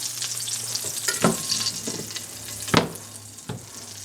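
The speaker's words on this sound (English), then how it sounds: "I'm going to start cooking them up" Gluten-free Salisbury steak burgers frying in a hot pan, a steady sizzle with a low hum beneath and a few sharper crackles and clatters, close by and with no voices.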